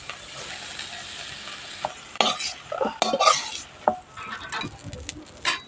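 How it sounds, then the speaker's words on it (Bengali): Fried prawns lifted out of a hot pan of oil: a soft sizzle under irregular metallic scrapes and clatters of a spatula against the pan, close and uneven in rhythm. "এবারে চিংড়ি মাছগুলোকে উঠিয়ে নেব"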